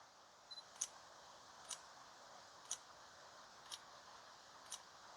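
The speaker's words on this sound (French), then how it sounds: "Alors l'appareil a pris 5 photos." A Sony a6700 camera fires its shutter through a focus-stacking series, giving five or six faint, evenly spaced clicks about a second apart over a quiet background hiss.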